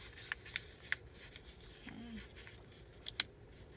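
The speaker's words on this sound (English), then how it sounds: "fold it over" Sheets of paper cut from assorted books being folded over by hand, producing faint crisp rustles and a few sharp papery creases and taps, very quiet and close with no talking.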